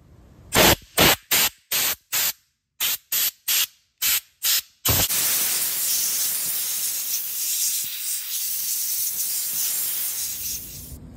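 Compressed air blows through the internals of a Milwaukee 18V Sawzall, a string of short sharp hissing bursts followed by one long continuous blast, close and loud.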